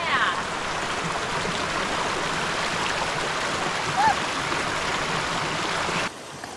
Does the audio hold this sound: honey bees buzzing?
no